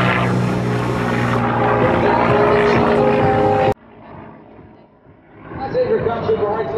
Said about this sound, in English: that's a nice slow roll with the P-51 Mustang